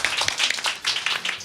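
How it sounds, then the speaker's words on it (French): A crowd claps in steady applause at a live awards show, a short, dense burst of hand claps heard up close. "Je vous demande d'applaudir Jean"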